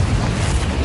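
Confringo fire-blast spell from Hogwarts Legacy bursting into a brief, loud, low-heavy boom that lasts under a second, with no voices over it.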